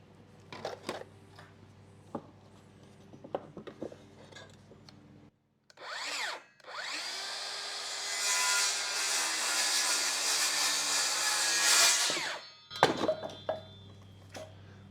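A DeWalt power saw cuts through a wooden board, the motor revving up then holding a loud, steady bite for about six seconds before winding down, with scattered tool clatter before and after.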